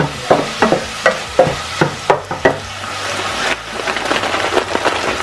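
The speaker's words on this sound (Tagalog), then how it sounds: "medyo mag-brown-brown yung chicken" Chicken pieces browning in a frying pan for sotanghon guisado, with a run of sharp stirring and scraping knocks followed by a steady, close sizzle.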